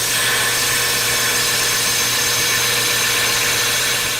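Metal slag is scraped and ground off a plasma-cut steel plate for a go-kart engine mount, giving a loud, continuous abrasive roar that holds steady for several seconds, close and without speech.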